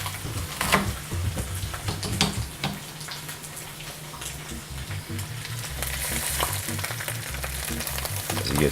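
Pieces of leaf sear in a hot pan with a steady, close sizzle and crackle, with scattered sharp pops and faint clinks as they are turned, and the frying holds continuously throughout.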